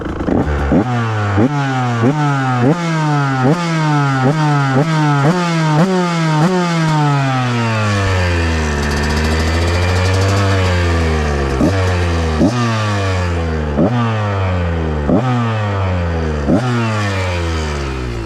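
A 2023 KTM Husqvarna 125 motorcycle with a remapped ECU revs hard in a rapid series of sharp blips, about a dozen loud, close bursts, with one longer sweep up and down in the middle.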